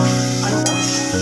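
Pre-fried potatoes go into sizzling spiced masala for a prawn curry, a close burst of frying hiss and clatter laid over a steady low hum, about a second long.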